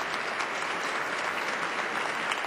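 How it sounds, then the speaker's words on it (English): A crowd inside the Basilica of the Shrine of the Immaculate Conception applauding a papal visit, dense, even clapping that fills the large space and holds steadily throughout. "that crowd in the Basilica, once again cheering"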